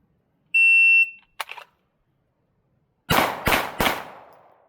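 A shot timer beeps, then a pistol drawn from the holster fires three sharp, loud rounds in quick succession during a timed ban hammer drill, with silence between the beep and the shots.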